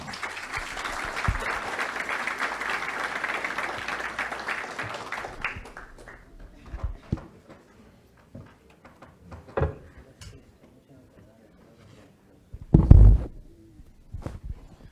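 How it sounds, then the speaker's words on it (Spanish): A steady burst of audience applause at a conference on contaminated site remediation in Peru for several seconds, then fading into scattered claps, a few bumps and shuffles near the end. "Fuertes aplausos, por favor."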